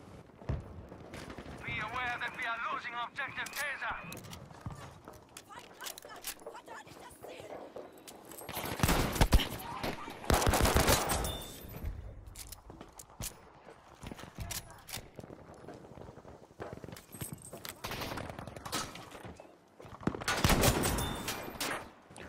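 Gewehr M95/30 sniper rifle shots in Battlefield V on the Rotterdam conquest map: several sharp, loud isolated cracks spaced seconds apart, with other distant gunfire and game battle noise between them.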